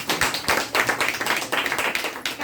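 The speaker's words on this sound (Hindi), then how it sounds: "आप सबके लिए जोरदार ताली।" Audience applause at a DXN health testimonial gathering: a short burst of brisk, dense hand clapping, close and steady throughout, with no talk over it.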